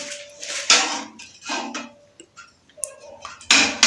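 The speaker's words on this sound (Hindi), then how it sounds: "तो अभी हम कुकर को ओपन करेंगे और पोजीशन चेक करते हैं यखनी की क्या है।" A pressure cooker of yakhni (meat and chickpea broth for Afghani pulao) is opened in a home kitchen, giving several close, loud bursts of hissing steam release between metallic lid clatter and clicks, with no talking.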